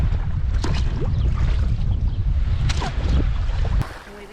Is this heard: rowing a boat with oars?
yes